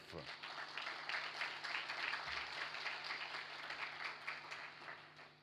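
An audience at a public-sector corporate governance awards ceremony applauds, a soft, steady patter of clapping in a large room with faint voices and a low hum beneath.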